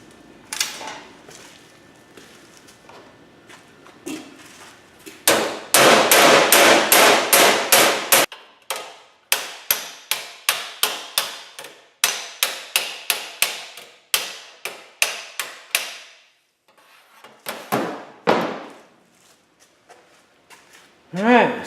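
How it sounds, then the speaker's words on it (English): Sheet metal gets hammered into a flange over clamped tubes during a 1929 AV8 coupe build, with fast rapid-fire volleys of sharp, ringing metallic blows, close and loud, broken by pauses and a few quieter single hits. "I'll just beat the metal around it"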